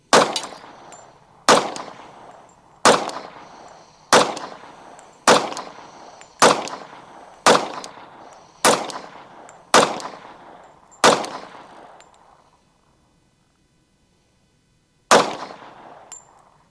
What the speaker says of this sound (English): shoot this for us and show us a good recoil management for this